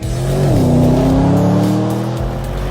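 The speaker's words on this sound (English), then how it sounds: "I'm sitting in the brand new Porsche Panamera Turbo S, braking into the first chicane on the start-finish straight" A new 2021 Porsche Panamera Turbo S brakes into a chicane on Porsche's own racetrack in Leipzig, with a loud, close engine note dropping in pitch, then holding a strong steady roar as tires scrub.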